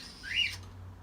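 A pet bird gives a single brief, fairly close chirp that rises and fades quickly, over a low steady hum in an otherwise quiet indoor room.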